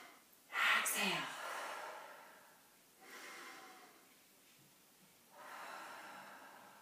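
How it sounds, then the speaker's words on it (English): Slow, audible breaths during a breathing exercise: a strong nasal exhale near the start, then two softer, longer breaths, close and fairly quiet, with an instructor's voice guiding. "Exhale."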